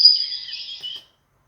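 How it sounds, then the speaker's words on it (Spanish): A recorded bird call played to an adult patient in a sound-identification listening test: a brief, steady high chirping trill lasting about a second, fairly clear and alone, then silence. "le ponemos un sonido, por ejemplo un pájaro, y él tiene que indicar a qué corresponde el sonido"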